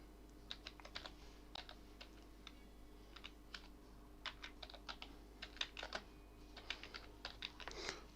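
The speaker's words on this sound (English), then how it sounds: "let me type it again properly." Keys clatter on a computer keyboard in quick irregular bursts of close, crisp taps with brief pauses between words, over a low steady hum and no talking.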